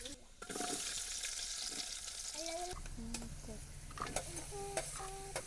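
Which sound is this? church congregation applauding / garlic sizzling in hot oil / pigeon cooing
garlic sizzling in hot oil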